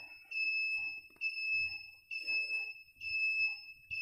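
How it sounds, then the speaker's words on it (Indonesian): A custom alarm on a Suzuki Satria FU motorcycle sounds, a shrill electronic tone pulsing in repeated bursts roughly every second, fairly faint, with low rumbling noise underneath. "maka alarm akan berbunyi"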